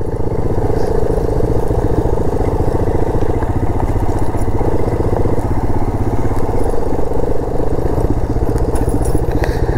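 A motorcycle engine runs steadily and loudly, with a constant rattling rumble that does not change throughout.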